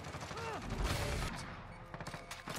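Gunfire in Modern Warfare, dense rapid automatic bursts layered with game effects and mechanical clatter, loud and continuous, with faint talk underneath.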